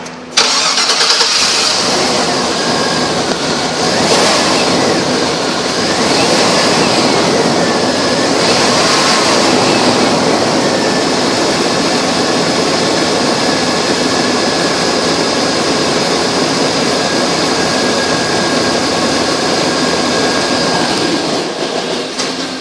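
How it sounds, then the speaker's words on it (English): A 1994 Chevrolet Suburban with 155,557 miles starts up and settles into a loud, steady idle, with a few brief rising whines early on before a long, even running drone, no speech. "This is an engine run video."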